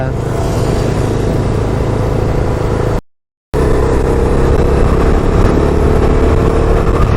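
A 2022 Bajaj Dominar 250 BS6 motorcycle engine pulls hard while riding, giving a loud, steady drone mixed with wind rush. The sound cuts out briefly partway through.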